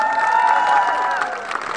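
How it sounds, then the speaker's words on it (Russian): An audience applauds a choreography dance group at an Independence Day concert, with steady, dense clapping and some cheering that stays loud throughout and eases slightly near the end. "Аплодисменты"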